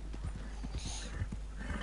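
Horse hooves clip-clop at a brisk, even pace on a road in Red Dead Redemption 2, the steps close and distinct over a constant game background hum.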